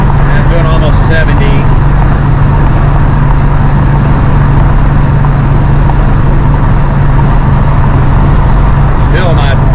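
Inside a 1969 Hurst Olds cruising at almost 70 mph, a loud, steady engine drone and road roar fill the cabin without letup, with a constant low hum underneath.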